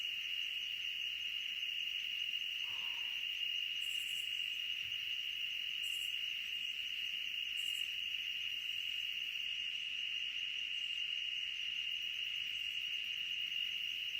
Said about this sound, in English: Crickets and frogs.